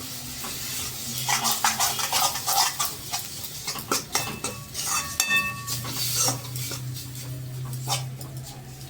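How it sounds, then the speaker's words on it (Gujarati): Spinach paste sautés in oil with a low, steady sizzle while a utensil stirs and clinks against the pan in irregular scrapes, close by. "આ પેસ્ટને તેલમાં થોડીક વાર સાતળવા દેશું જેથી કરીને પાલકમાં જે પાણી રહી ગયેલું હોય તે સરસ રીતે બળી જાય"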